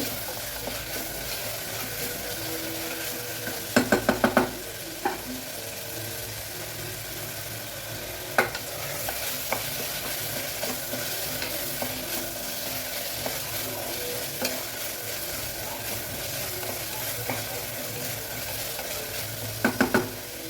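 Curry leaves and tomato sautéing in a pan for brinjal kadayal, a steady close sizzle and frying hiss throughout, with a few brief clinks of a stirring spoon against the pan.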